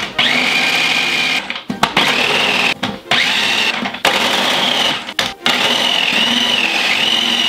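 A food processor grates cheese for chicken parmigiana, a loud high-pitched motor whine running steadily with several short cutoffs and restarts as the blocks are pushed through the feed tube.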